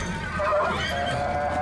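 Horses in the film Logan give a short, clear neigh over a low background rumble.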